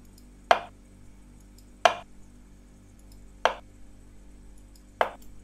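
A knife chops food in Cooking Simulator while preparing lemon chicken breasts with fruit: four crisp, evenly spaced chops land about a second and a half apart over a quiet background hum, with no talking.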